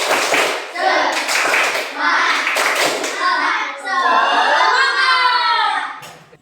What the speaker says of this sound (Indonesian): kita tepuk semangat dulu supaya tambah semangat